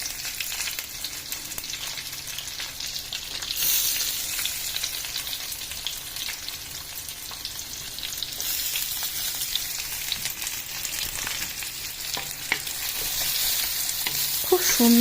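Nigella seeds hit hot oil in a pan alongside fried mackerel, raising a loud, continuous close sizzle with crackling bursts that swell as they land and keep frying steadily throughout.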